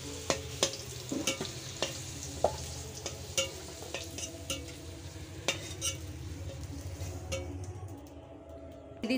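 Meat cooks in hot oil in a pot while being stirred, a soft sizzle with scattered clinks and scrapes of a utensil against the pot, faint and close, with no talk.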